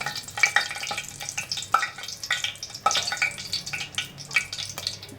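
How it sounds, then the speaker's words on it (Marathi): Bay leaf and two cardamom pods frying in hot oil for chicken biryani, a close crackling sizzle with quick spattering pops and light stirring clinks throughout. "इथे आपण तेलामध्ये तेजपत्ता टाकणार आहे आणि दोन वेलची"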